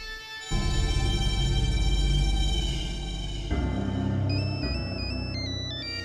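A telephone ringtone plays in an indoor setting, an electronic melodic ring with bright tonal notes over a low background rumble, moderately loud and continuous for several seconds.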